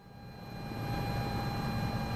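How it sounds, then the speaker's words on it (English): In Flight Simulator 2024, a helicopter runs into its torque limiter, producing a steady engine drone with a high sustained whine that swells gradually over a couple of seconds. "That's the sound of running into the torque limiter."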